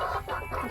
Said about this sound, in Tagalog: Gutom na ang manok.